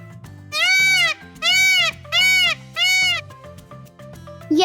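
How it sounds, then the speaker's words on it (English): A peacock gives four loud, drawn-out wailing calls in a regular sequence, each a piercing rising-falling cry separated by short pauses, close and prominent over a faint musical background. "Yes, a peacock."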